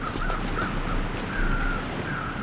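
Crows cawing in the snowy wilderness of the video game The Long Dark, a few drawn-out calls repeating at a steady distance over a constant low wind-like drone.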